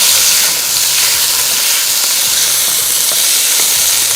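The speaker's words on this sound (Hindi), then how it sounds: "इसमें क्यूब में कटा हुआ चिकन, इसको तेज़ आंच पे थोड़ा सा करना है फ्राई" Cubed chicken frying on high heat for soup, giving a loud, continuous, close-up sizzle and hiss with no pauses.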